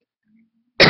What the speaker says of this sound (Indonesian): Ini maaf saya batuk.